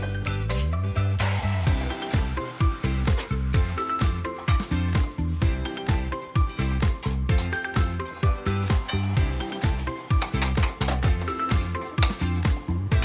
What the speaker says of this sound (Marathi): आता हे बटाटे मी कांद्यामध्ये टाकत आहे। हे मी मिक्स करत आहे।